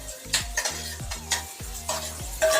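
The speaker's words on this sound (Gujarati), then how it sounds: "હવે નાખી મિત્રો સમારેલી ડુંગળી મસ્ત તેલમાં શેકી દેવાની" Chopped onion dropped into hot oil and stirred for a Gujarati papad shaak tempering, giving a close, steady sizzle broken by repeated scraping strokes of a spoon against the pan.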